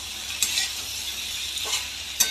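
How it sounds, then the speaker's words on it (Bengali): Fish curry spice paste of ground cumin, coriander and fennel sizzling and being stirred in a pan for Bengali macher jhol, a steady fry hiss with a few sharp scrapes of the spoon against the pan. "এবার নাড়বো"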